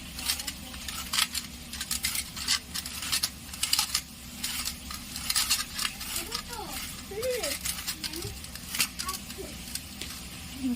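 Potatoes are grated for aloo bhaja with a rhythmic run of close, scratchy rasping strokes, interspersed with light clinks, while a voice talks over them.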